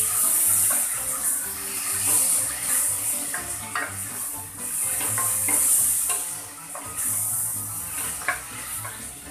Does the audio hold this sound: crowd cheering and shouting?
no